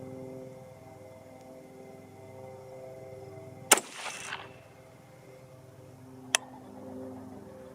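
Two sharp rifle shots from a .22 ARC fired at a target, each a loud isolated crack with a brief ringing tail, set apart by a few seconds of near quiet.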